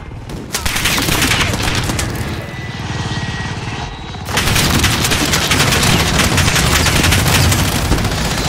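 Sustained gunfire in Call of Duty Warzone, with dense rapid automatic bursts and booming shots continuing throughout at close range over a loud battlefield background.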